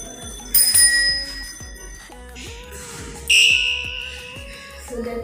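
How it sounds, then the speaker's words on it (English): An electric bicycle bell rings in two loud electronic bursts, each a shrill buzzing ring of about half a second, with soft ticking and a faint voice underneath. "And also we have a bell here,"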